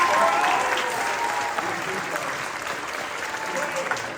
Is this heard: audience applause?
yes